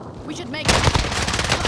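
A rapid burst of automatic gunfire erupts in a shooter game after a brief quieter moment with game sounds, loud and sustained to the end.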